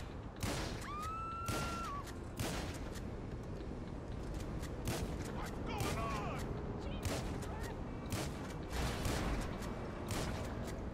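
Repeated gunshots ring out in Grand Theft Auto Online: loud, sharp cracks at irregular intervals, fired one after another over about ten seconds. A thin tonal whine rises briefly near the start, and a background bed of noise runs throughout.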